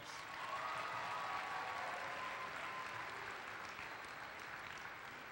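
A crowd at a UMass Boston university event breaks into sustained applause, a broad wash of clapping heard from a distance that holds steady and then eases slightly toward the end.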